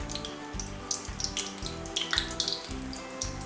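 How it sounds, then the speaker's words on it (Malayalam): Batter-dipped bread slices sizzle and crackle in hot oil, a busy spatter of pops over a steady frying hiss, close and continuous, with soft rhythmic knocks underneath. "അപ്പോൾ നമ്മൾ ബ്രെഡ് ആ മാവിൽ മുക്കിയിട്ട് ചൂടായ എണ്ണയിലോട്ട് ഇടും"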